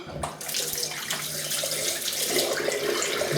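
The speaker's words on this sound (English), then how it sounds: "going to have a quick rinse" Water runs steadily from a tap into a sink for rinsing after a traditional wet shave, a continuous close hiss and splash with no talk.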